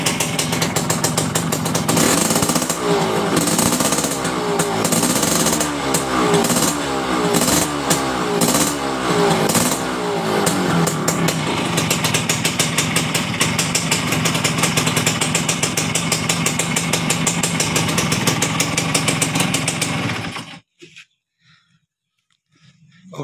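A motorcycle engine fitted with an aftermarket, non-original block idles steadily and close, with a few quick revs early on, then cuts off abruptly near the end.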